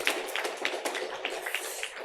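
A church congregation applauding during a Sunday service, a continuous patter of many hands clapping at moderate distance, fairly even and sustained.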